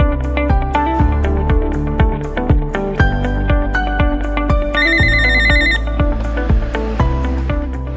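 A phone rings while a call goes out to a clinic, giving a loud, repeating electronic ringtone melody that plays steadily with a brighter, higher tone layered in midway.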